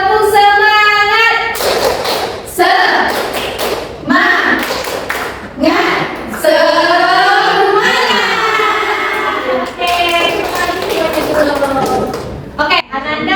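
A classroom of students performs the rhythmic 'tepuk semangat' clap, sharp patterned bursts of hand claps alternating with chanted voices and a teacher speaking between them.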